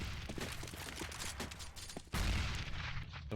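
Grenade explosions and gunfire ring out in a Counter-Strike match on Cobblestone, a dense, continuous barrage of loud shots with a heavy blast near the middle, with no talk over it.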